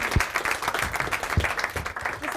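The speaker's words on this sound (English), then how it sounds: "Please give him a warm hand of applause." Studio audience on a TV set applauds a company CEO as he is introduced, a steady wash of clapping with a few heavier thumps throughout, fairly close and without talk.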